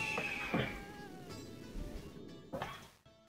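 A house cat meows several times indoors, short faint cries spaced through a quiet room alongside soft bumps and background hum.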